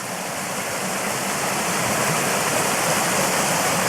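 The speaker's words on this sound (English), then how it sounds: "But this is the start of the waterfall" A waterfall and creek rush steadily with a dense, even wash of falling and flowing water, loud and unbroken all the way through, with no voices.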